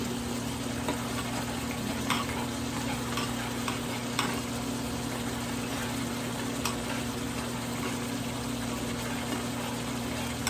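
Kare-kare sauce is stirred in a pan, giving a continuous dense scraping and bubbling texture over a steady low hum, with occasional faint knocks and no talking.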